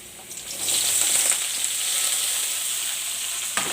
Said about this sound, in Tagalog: Nagisa na ako ng sibuyas at saka bawang. Mga kanunal, good morning. Ilulunod ko na ang Baguio beans.